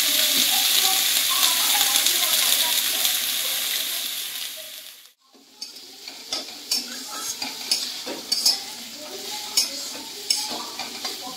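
Bottle gourd peel fries in a pan with a loud, steady sizzle that drops away abruptly midway, followed by intermittent scraping and stirring clicks over a softer crackle.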